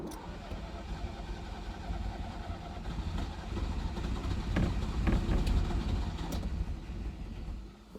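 A Ferrari 308 engine cranks over on the starter for a compression test, a steady mechanical churning that swells in the middle and fades near the end, with no one speaking.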